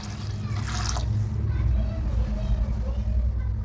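Water pours into a tamarind fish curry in the pot, a brief bright splash and gush lasting about a second, followed by low simmering rumble and faint background noise.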